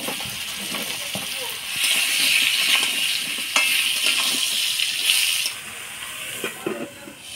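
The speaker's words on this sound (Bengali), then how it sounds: "এবার আলু আর পটল তেলে ভেজে নিব।" Potatoes and pointed gourd frying in oil with turmeric and salt, a steady close hiss of sizzling that swells in the middle and eases near the end, with occasional clinks of a utensil against the pan.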